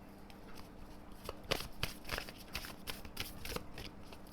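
Tarot cards are shuffled by hand up close, a run of soft papery riffles and flicking bursts in an uneven rhythm, with no voice over them.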